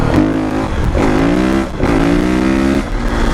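A KX 450 dirt bike engine revs hard and loud up close, rising in pitch through two long pulls with a brief dip between, as the rider tries to lift a wheelie.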